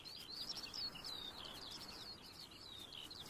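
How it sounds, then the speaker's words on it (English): High, thin chirping calls of skylark chicks begging their parents for food repeat continuously in Scotland, faint over a steady outdoor background hiss. "The skylark chicks that seemed so small and defenseless just weeks ago are now chasing their parents for food."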